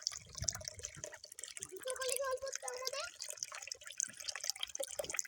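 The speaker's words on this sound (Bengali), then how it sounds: "টাইম কলে জল চলে এসেছে" Water arriving and running from a time-controlled tap outdoors, a soft splashing flow under nearby talking voices.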